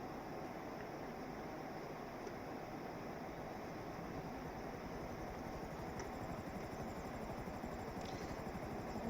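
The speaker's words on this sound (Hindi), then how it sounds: "जल्दी से इस हेलीकॉप्टर में बैठ कर निकल लेते हैं।" A helicopter in GTA 5 gameplay gives off a steady, faint, whooshing rotor drone with no break for about nine seconds and no talk over it.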